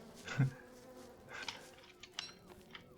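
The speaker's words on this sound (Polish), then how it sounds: "słyszę muchy" Faint, intermittent insect buzzing of flies in Don't Starve Together over a low ambient hum, with a few soft thumps and brief higher tones scattered through.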